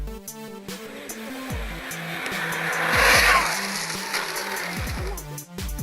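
A high-speed electric RC model car, running on 12 cells of 5,000 mAh with wheels spinning up to 23,000 RPM, whines and rushes past, rising to a loud peak midway then fading, accompanied by background music.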